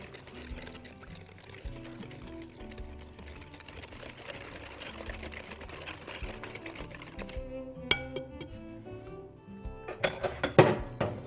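Carrot cupcake batter beaten while oil is poured in, with a steady whirring beater hum and faint liquid sounds that stop near the end, followed by a few close bowl clinks and taps.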